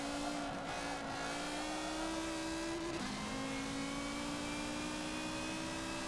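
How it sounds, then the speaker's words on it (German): Car engine from Forza Motorsport 7, heard from the interior view: a sustained, smooth engine whine that drops briefly at a gear change midway, then climbs steadily again. "Ich sage soundtechnisch mit einer der besten Autos, die ich hier in Forza 7 gehört habe."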